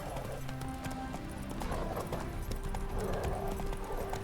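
Roach the horse gallops in The Witcher 3, steady rhythmic hoofbeats clip-clopping under ambient game music and background sounds, continuous and moderately near.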